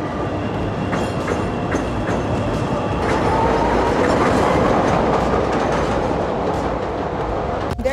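A Chicago L elevated train rumbling past on its tracks in the city, a loud steady roar with wheel clatter and a faint squeal near the end, heard up close with no talking.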